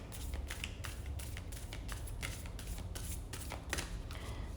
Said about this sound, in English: So I'm just riffle shuffling a little bit